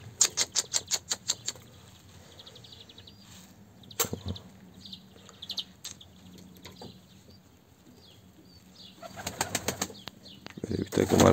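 Young Arab and spotted pigeons flap their wings on a morning flight-training session, with a rapid burst of wingbeats at first, scattered flutters, then louder flapping near the end, heard up close over faint background noise.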